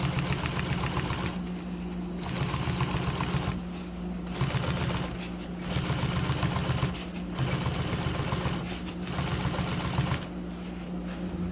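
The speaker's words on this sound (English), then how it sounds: "Sew that binding. That's the way you do it." A sewing machine stitches vinyl binding onto a boat mooring cover, a steady close mechanical whir in repeated runs broken by short pauses.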